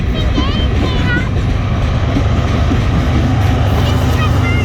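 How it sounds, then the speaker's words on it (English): A BNSF freight train rolls past close by with a loud, constant rumble and rattle of cars. Faint squeals come from the wheels, and a little talk is mixed underneath. "That train was actually pretty short, wasn't it?"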